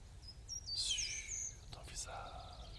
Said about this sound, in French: Tu te sens bien avec ce chant des oiseaux.